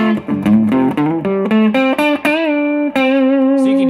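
A Cort X700 electric guitar on its neck pickup plays a run of single notes, then sustained ones, through a warm, rounded distorted tone, loud and close with no voices.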